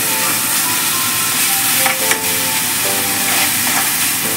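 Onion paste sizzles hard in hot oil for an egg masala gravy, a loud, unbroken hiss and crackle close by, with faint stirring scrapes partway through.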